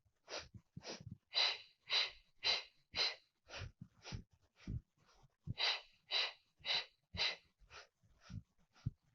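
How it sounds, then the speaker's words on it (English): Heavy, rhythmic breathing during a workout exercise, about sixteen sharp breathy huffs in quick, even succession with a brief pause midway, close-up and fairly loud, with no talking. "We inhale and exhale."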